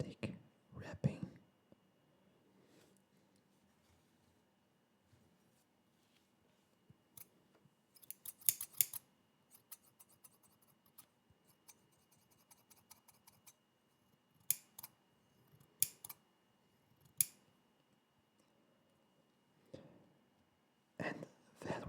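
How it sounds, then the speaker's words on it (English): Scissors snip in quiet, close ASMR-style bursts, with a few sharp cuts in clusters spread across the stretch and soft rustling between them. No one speaks. "And that one is the sound of scissors."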